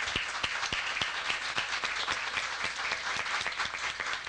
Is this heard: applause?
yes